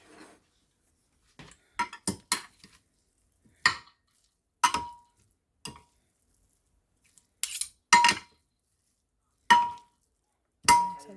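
Microwaved broccoli being stirred in a dish, about a dozen separate clinks and scrapes of a utensil against the dish at an uneven pace, close and fairly crisp, with quiet pauses between them and no talk.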